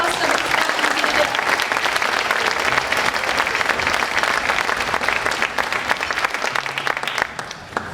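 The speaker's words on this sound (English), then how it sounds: "I think that has a round of applause" A school band concert audience applauds loudly and steadily, dense clapping filling the hall for several seconds before thinning slightly at the end.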